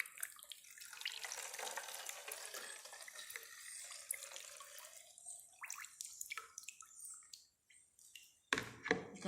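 Homemade liquid air freshener is poured, giving a quiet, continuous splashing trickle that thins into scattered drips near the end.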